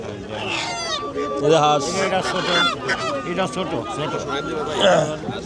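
Ducks at a busy riverside market near Dhaka, honking and quacking close by while several people haggle and chatter loudly over them.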